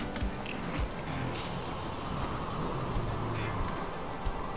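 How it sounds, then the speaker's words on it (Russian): Steady rain patters throughout a hardcore survival video game, a dense, even hiss of drops on surfaces with no voices over it. "Ох, этот дождь."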